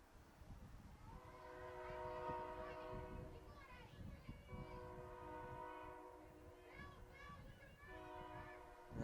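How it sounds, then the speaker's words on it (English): A train passes behind a women's college soccer field during a match, its horn sounding in long sustained blasts over steady rumbling, with crowd and children's voices mixed underneath. "As the train passes behind us"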